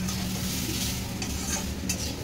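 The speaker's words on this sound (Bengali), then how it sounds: "করলা আলু পেঁয়াজ ভাজা হচ্ছে," Bitter gourd, potato and onion frying in a pan, giving a steady, close sizzle with soft stirring scrapes throughout and no voices.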